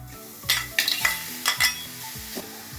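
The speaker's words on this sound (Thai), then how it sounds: "ใส่เนื้อลงไปรวนครับ" Minced beef sizzles and hisses as it stir-fries in a hot pan while a utensil scrapes and clatters against it in several sharp strokes, heard up close with no talking.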